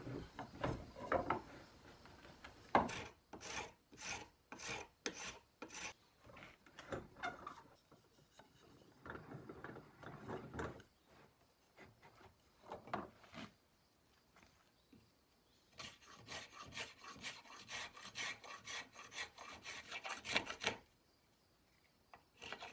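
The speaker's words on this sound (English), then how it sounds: "I'm going to start with the spokeshave on the handle." A spokeshave shapes the handle of a wooden utensil in quiet, repeated rasping strokes, short scraping passes in irregular bursts separated by pauses.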